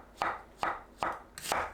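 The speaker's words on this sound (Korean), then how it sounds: "대는 끝에 딱딱한 곳을 제거하고 얇게 썰어줍니다." A knife thinly slicing the trimmed stems of shiitake mushrooms on a cutting board: four evenly spaced crisp chops, close and clear, with no talking.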